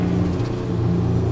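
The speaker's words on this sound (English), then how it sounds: "Then that 450 horsepower starts coming in." Close, loud engine of a 1973 Ferrari 365 GTB/4 Daytona Competition accelerating on a road course, a dense, sustained rumbling drone with steady whirring that holds without break, and no talk over it.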